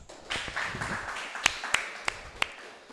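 After a student paper presentation in an advanced class at an Islamic boarding school, a few scattered sharp claps ring out, following brief low murmuring at the start.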